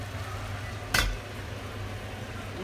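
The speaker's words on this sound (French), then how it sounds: "mon poisson, il est en train de mijoter tranquillement" Smoked fish simmering gently in a pan gives a steady low bubbling hiss, broken once by a short clatter from a utensil or lid near the start.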